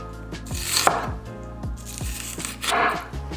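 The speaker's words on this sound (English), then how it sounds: "turn around the onion and keep slicing." A knife slices through an onion on a cutting board in quick, steady, crisp strokes, each cut thudding sharply against the board at close range with no talk.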